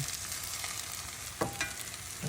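Four beaten eggs fry in a pan, giving a steady close sizzle with a couple of brief scrapes or clinks near the end.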